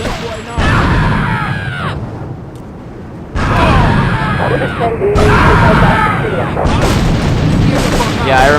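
Grenade explosions in Grand Theft Auto III, loud booming blasts in quick succession with gunfire and game noise, a brief lull between bursts, and a voice talking over them.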